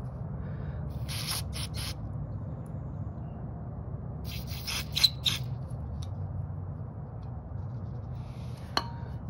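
A Husqvarna 360 BT backpack blower's carburetor part gets cleaned with an aerosol spray, with several short hissing bursts in two clusters over a low steady hum, plus a couple of faint metallic taps.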